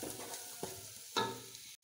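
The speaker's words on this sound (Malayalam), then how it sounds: "ഇതിലേക്ക് കുറച്ച് ഉപ്പിട്ടിളക്കി" Onions with salt frying for fried rice, a quiet sizzle with a few soft scrapes of a spoon stirring, the stirring strokes landing irregularly before an abrupt cut.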